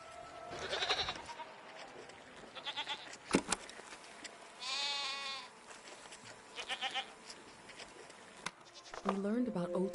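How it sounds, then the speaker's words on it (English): Goat-like creatures bleat repeatedly in the video game Season: A Letter to the Future, several close, wavering calls spread across the stretch, with gaps and a soft background hum between them. "What are these strange goat-like creatures? Are they simply goats?"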